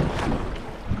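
Strong gusts on a windy day out on the water by canoe, buffeting the microphone in a steady, loud rumbling roar with no voices.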